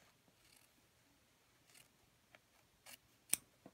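Scissors snip quilt binding fabric in a few quiet, scattered cuts, faint and close in a calm room, the last snip the sharpest.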